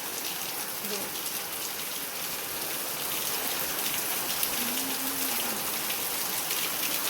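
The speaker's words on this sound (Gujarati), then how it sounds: "તો ફૂલ વરસાદ ચાલુ થઈ ગયો એકદમ" Heavy rain pours steadily onto a farm field, a dense, even hiss of drops that stays constant and close throughout.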